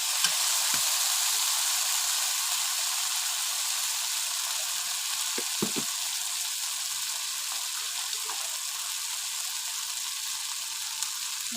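Spice paste for a pomfret fish curry fries steadily in hot oil, giving a continuous close, even sizzle with a few small pops and no voices.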